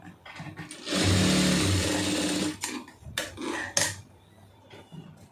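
A sewing machine stitches the shoulder seam of a round-neck garment in one loud, steady run of about a second and a half, then stops, leaving only faint handling noises.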